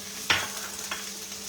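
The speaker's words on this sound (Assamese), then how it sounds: "ধুনীয়াকৈ তেলখিনি গৰম হৈ আহিলে এতিয়া মই ইয়াতে দি দিছোঁ সৰুকৈ কাটি ৰখা পিঁয়াজ" Chopped onions sizzling in hot oil in a pan, a steady frying hiss with a couple of brief stirring scrapes, close and fairly quiet, with no talk.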